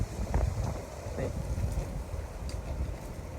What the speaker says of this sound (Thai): ลมพัดเ ย็นคักเนาะ